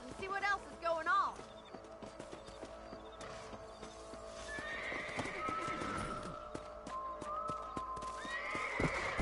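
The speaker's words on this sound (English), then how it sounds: "Let's get back on the horses and see what else is going on." Horses in the Western video game Red Dead Redemption, with a whinny near the start followed by steady clip-clop of hooves trotting along, game music and a speaking voice running underneath.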